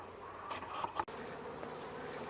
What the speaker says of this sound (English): you got a bunch of bees up there